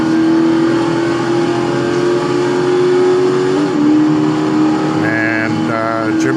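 A Ford GT Mk II in a racing sim game accelerates hard out of a low gear onto a long straight at Virginia International Raceway, giving a loud, sustained engine drone that climbs in pitch and shifts once.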